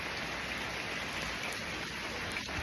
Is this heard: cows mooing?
no